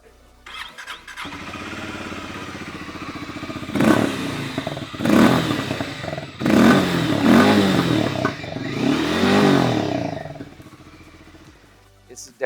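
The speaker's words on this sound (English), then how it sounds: "let me give you guys a quick lesson on the exhaust note" A Harley-Davidson X440 T motorcycle's exhaust revs up in four sharp, throaty bursts after starting, each swelling and falling back to a steady idle, loud and close with no talking over it.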